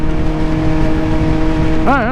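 Classic truck driving past nearby, a loud sustained engine hum with a steady drone, ending with a brief voice.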